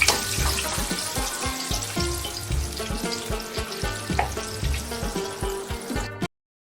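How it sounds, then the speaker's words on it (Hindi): Sliced potato chips fry in hot oil with a loud, steady sizzle and bubbling crackle, close up, before cutting off abruptly into silence. "चिप्स जो मैंने डाली ये भी फ्राई हो चुकी है"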